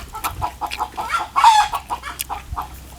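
A chicken clucks in a rapid, uneven series of close calls, with one louder squawk in the middle, heard alone outdoors on a rural Thai farm.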